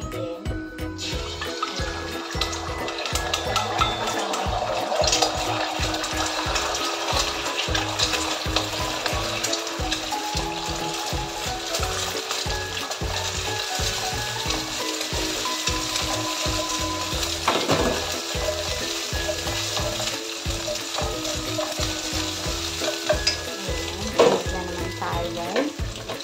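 Fried rice with egg sizzles loudly in a pan, with constant close frying and a rapid rhythmic scrape of stirring throughout.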